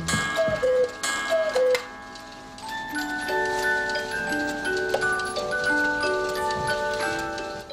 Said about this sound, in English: cuckoo clock.